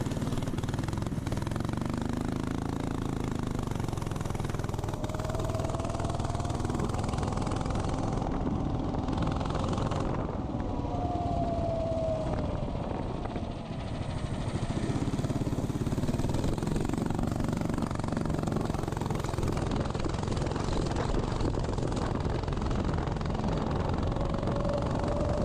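A cheap homemade mini bike's small engine runs steadily nearby, droning and revving slightly up and down with a rough, uneven tone at partial throttle.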